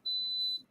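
A machine gives a single steady, high-pitched electronic beep lasting about half a second in an otherwise quiet room, with no speech.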